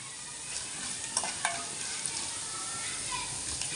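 Ginger pieces and sago fry in hot oil for a dried red chilli and curd chutney, a close, continuous crackling sizzle broken by a few sharp spoon clicks against the pan, no talking.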